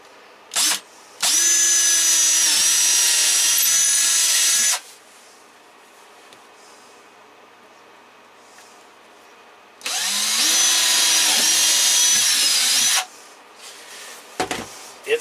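Power drill boring holes into wooden drawers during a Promaster 2500 159-inch wheelbase van build; two loud, sustained whirring bursts of about three seconds each, separated by a quiet pause, with no talk.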